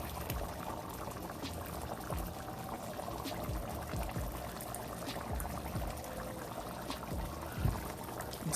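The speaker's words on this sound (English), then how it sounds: "now I'm going to add this mixture" Black-eyed pea mixture poured into a cooking pot, a steady soft liquid rush and trickle with a few small bumps, close and continuous throughout, with no talking.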